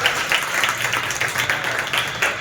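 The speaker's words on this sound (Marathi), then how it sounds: "आमचे कलाकारच असे की त्यांना टाळ्या वाजवायला भागच पडावं" Audience applause at a kirtan performance: a dense, steady wash of many hands clapping together, sustained at an even loudness throughout with no voices above it.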